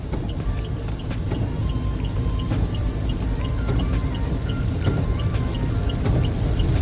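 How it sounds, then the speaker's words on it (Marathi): Heavy monsoon rain pounding around a vehicle on the road: a dense, steady, loud wash of drumming drops with no talk. "बापरे काय पाऊस आहे हा"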